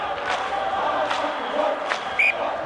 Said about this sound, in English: the crowd are in voice now